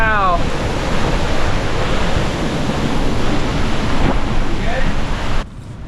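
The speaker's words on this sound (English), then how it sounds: "We got some big gusts coming through right now. It's like squall after squall." Strong wind gusts at sea roar across a boat in a steady, loud, broadband rush that buffets the microphone, dropping off abruptly near the end.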